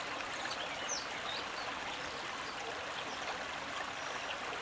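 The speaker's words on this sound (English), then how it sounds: "Before plummeting down the waterfalls, the river water gathers in lakes before the thresholds, creating a dense, uniform ripple on their surface." Krka River water in Croatia ripples and flows across a lake toward its waterfalls, a steady, dense wash of rushing water with a few faint bird calls far off and no talk.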